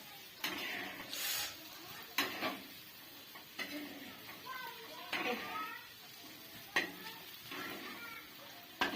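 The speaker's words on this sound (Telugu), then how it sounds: "ఇట్లా తిప్పితే బాగా ఫ్రై అవుతుంది." Chicken frying in an iron pan is stirred in repeated scraping strokes over a soft sizzle, with a person talking between the strokes.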